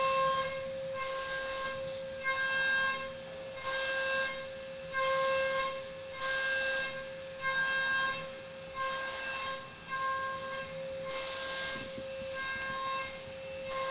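A DATRON CNC milling spindle spinning at 32,000 RPM and cutting at 8 meters per minute, a steady piercing high whine that rises and falls in repeated bursts as the tool passes through the workpiece, loud and close.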